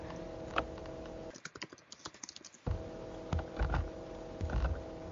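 Someone types on a computer keyboard during a mock interview, with bursts of soft, quick key clicks close by over a steady background hum.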